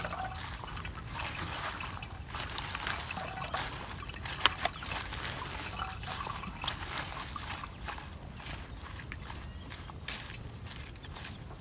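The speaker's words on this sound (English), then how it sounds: "you make sure you remain with the residues on top and the liquid in the sprayer" Homemade organic chili pesticide is squeezed by hand so the liquid trickles and drips into a sprayer, a faint, continuous watery dribble with a few small splashes.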